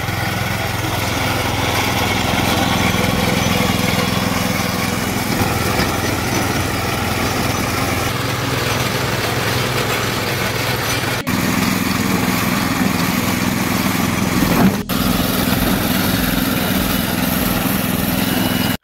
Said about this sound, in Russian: мотоблок на гусеницах едет по целому снегу